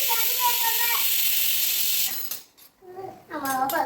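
A kitchen pressure cooker vents a loud, steady hissing whistle with a wavering tone for about two seconds, then stops abruptly, and a voice follows in the quieter moment afterward.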